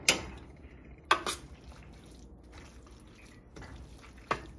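Pork chops and sauerkraut stirred in a pan, a few sharp clanks of utensil on metal with soft wet shuffling in between, close and intermittent.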